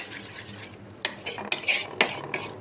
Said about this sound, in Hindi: अब इसमें हम थोड़ा सा नमक डालेंगे, लाल मिर्च, इसको अच्छे से फेंट देंगे।